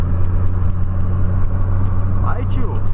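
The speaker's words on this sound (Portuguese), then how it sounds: "Vamos acelerar aí o polo." A Volkswagen Polo sedan accelerates with a loud, steady engine drone and low rumble that rises slightly in pitch toward the end, recorded from inside the car while people talk over it.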